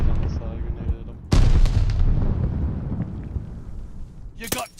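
A grenade goes off in a Call of Duty MW2 match, a loud sudden blast with a long rumbling tail amid gunfire and game noise, a sharp crack near the end, and players' voices mixed in.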